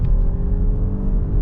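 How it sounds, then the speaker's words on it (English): A 335-horsepower Audi A8 engine hums loud and close in a steady, mellow low drone, with no talk over it. "This engine sounds bigger than it is."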